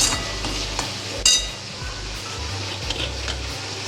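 A spoon stirs coriander and red chili powder into a curd vegetable dish in a pan, giving soft scraping and stirring with a gentle sizzle underneath and one sharper clink near the middle.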